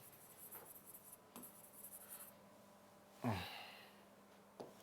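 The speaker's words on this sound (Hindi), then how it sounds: "देखिए एक एग्जांपल मैं यहां लिखता हूं" Chalk or marker scratches out an example on a board during a classroom grammar lesson, in a few short quiet bursts of writing with a sharper stroke near the middle, close and faint, with soft breathing between strokes.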